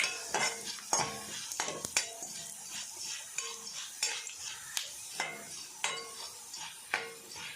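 Coriander seeds frying over a gas flame, a steady sizzle with repeated scraping stirs at a regular rhythm, close and fairly loud, no voices.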